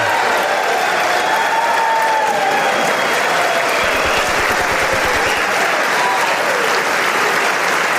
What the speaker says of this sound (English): they're really cheering in front of her face there